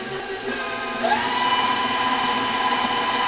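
An electric mixer beats gooey butter cake batter, a steady high motor whine that rises in pitch partway through as the speed increases, loud and close with no voices.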